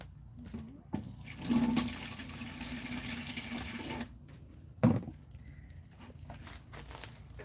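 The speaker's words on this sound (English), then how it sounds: "Alright, I'm going to pour it a little bit in here." Dark kitchen-scrap fertilizer tea is poured into a container outdoors, a gurgling rush of liquid with splashing bursts, near and moderately loud, broken by a few knocks and handling sounds.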